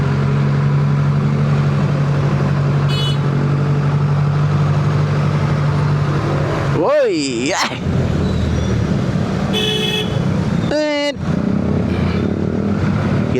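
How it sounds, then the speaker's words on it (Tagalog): Heavy traffic in monsoon rain, with motorcycle and car engines idling and revving nearby over a steady wash of rain and road noise, broken by a couple of brief horn-like tonal sweeps. "Kita nyo yung traffic mga idol ha."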